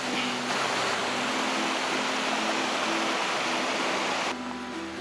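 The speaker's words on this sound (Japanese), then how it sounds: "この滝も綺麗けどね" Steady, full rushing roar of a waterfall on a mountain trail in Nara, Japan, close and constant throughout, with a faint tonal hum underneath.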